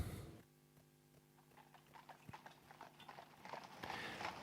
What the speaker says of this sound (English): But I can hear some horses